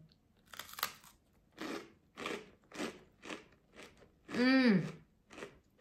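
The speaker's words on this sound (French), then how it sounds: "Vous entendez comment ça croustille?" Close, crisp crunching from repeated bites and chewing, several distinct crackly bursts spaced about a second apart, with a short vocal sound among them.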